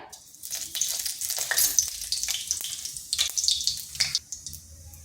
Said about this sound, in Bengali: এখানে পুরের জন্য কড়াই বসিয়েছি তাতে তেল দিয়েছি আর ফোড়নে দিচ্ছি জিরা